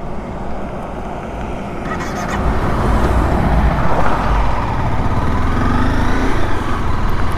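A Honda CBR 250R motorcycle runs on the road while being ridden, its engine and wind roar loud and continuous, swelling as the bike speeds up partway through amid passing traffic.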